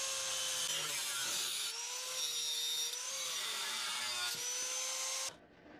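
A power tool cuts through a marked section of square steel tube in a workshop, with a steady loud whine that holds for about five seconds, shifts pitch slightly as it bites, then stops abruptly.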